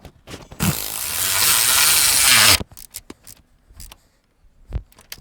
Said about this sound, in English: we tighten the 1/2" bolt with our wrench